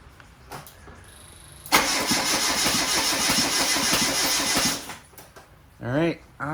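Engine cranks on the starter during a start attempt on an engine build with no exhaust manifold, a steady loud rhythmic chugging lasting about three seconds that stops without catching; brief talk follows.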